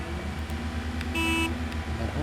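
A truck horn sounds in a snowy off-road driving video game, a steady tonal honk lasting about a third of a second midway through, layered over a constant low engine drone.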